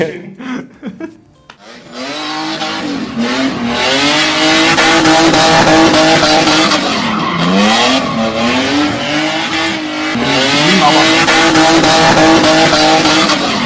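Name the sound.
car drifting with tire squeal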